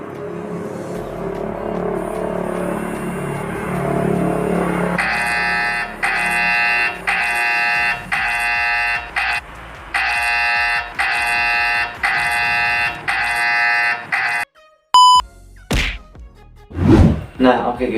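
The Grab Driver app's new-order ringtone plays as a loud repeating electronic alert in regular pulsed bursts from a phone, followed by a few clunks and a short voice near the end.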